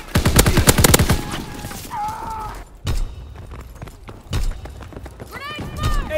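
Gunfire in a Call of Duty WWII multiplayer battle: a rapid volley of shots at the start, then scattered single shots and whooshing effects under shouted voices.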